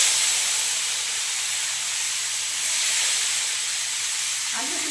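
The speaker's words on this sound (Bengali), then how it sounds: "ওই তেলের উপরেই দিয়ে দিব কুচনো পেঁয়াজ" Chopped onions go into hot oil that was used for frying fish and give off a loud, steady, broadband hiss and sizzle that holds constant throughout, with no voices.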